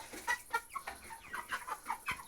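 Chickens cluck close by in a rapid, irregular series of short clucks, around a dozen in just over two seconds, moderately loud with no talking over them.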